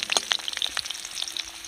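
Large potato chunks frying in mustard oil in a wok give a steady, close sizzle dotted with sharp crackles and pops, with no voices.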